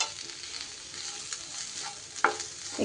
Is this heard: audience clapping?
no